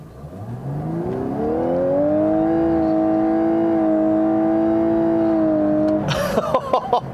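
A 2018 Lexus LC 500h hybrid coupe accelerates hard off the line, its engine note climbing smoothly and then holding a strong, steady drone before easing off with some mechanical clatter at the end.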